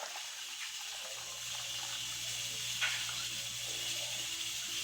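One litre of water is poured into a foamy potato yeast starter, giving a steady, fairly quiet splashing gush that runs for about five seconds with no talk.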